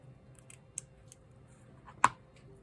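Scissors snip through excess cross stitch fabric, with a couple of faint cuts followed by one sharp, close snip, set against a quiet room.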